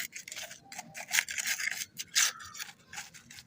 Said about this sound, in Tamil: இந்த மாதிரி ஒரு பட்டி தகடு ஒன்று வச்சு சீவி